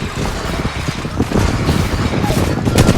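Rapid automatic gunfire in the mobile battle royale Apex Legends Mobile, dense overlapping bursts from several weapons near a building, loud and continuous for a few seconds.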